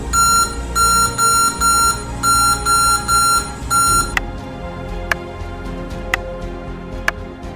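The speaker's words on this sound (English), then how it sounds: "There will be beeps and nothing on the screen" A Lenovo V15 G4 laptop with its RAM removed emits repeated electronic error beeps, a run of loud, evenly spaced tones followed by several short isolated clicks over a steady background hum.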